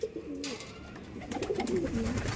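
Young pigeons in an aviary coo softly and steadily at close range, with faint background rustling and no talking.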